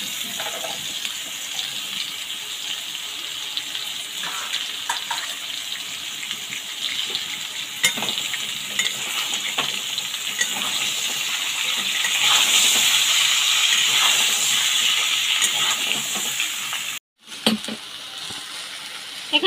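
Pumpkin, potato and pumpkin stems with green chillies sizzle in a pan, a steady hissing crackle that grows louder partway through, with a brief gap near the end.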